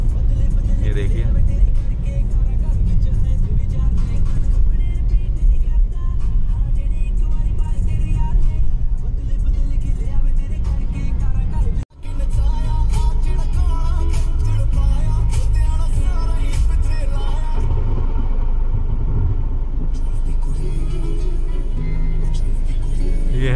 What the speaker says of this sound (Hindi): ये है दिल्ली का ट्रैफिक।